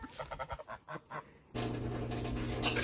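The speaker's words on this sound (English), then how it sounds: "Ending the day how we started, some scraps for the chickens." Backyard chickens being fed scraps at the end of the day, a series of short, nasal clucks and honking calls close by, followed by a louder, denser burst of overlapping squawks and flock noise.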